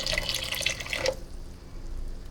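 Hot water pours into chicken liver masala in a pan, a soft splashing, trickling rush for about a second that then gives way to quiet low room noise.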